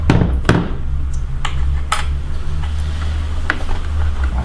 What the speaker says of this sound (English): What I do is I just get a nail and a hammer